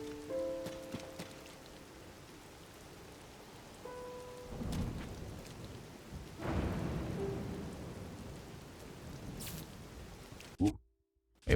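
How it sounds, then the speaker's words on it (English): Rain and thunder from the Zelda: Tears of the Kingdom video game, a steady wash of rainfall with low rolling thunder swelling twice, before the sound cuts off abruptly near the end. "Still raining."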